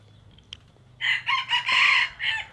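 A rooster crows loudly and close by, one long drawn-out call in several rising and falling pulses that follows a brief quiet moment.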